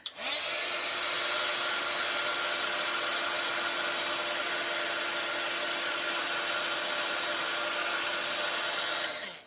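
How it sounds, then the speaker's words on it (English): A craft heat tool blows hot air to melt embossing powder on a stamped card: a steady, close, loud whirring fan with a high whine that runs unbroken for about nine seconds, with no voices. "as the heat tool heats up more, it doesn't take quite as long for the embossing to actually, embossing powder to melt and go all shiny"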